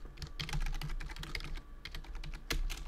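Rapid typing on a computer keyboard, a steady patter of close, crisp key clicks with a few heavier strokes, heard alone without talk.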